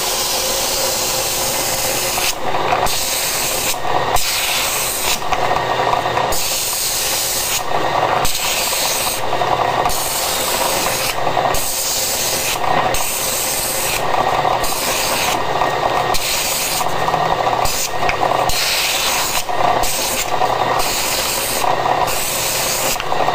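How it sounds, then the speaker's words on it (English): A pneumatic belt sander with 120 and 180 grit belts grinds steadily against wood, a loud continuous rasping hiss with brief rhythmic dips as the piece is shifted along the belt. "So I start up the pneumatic sander."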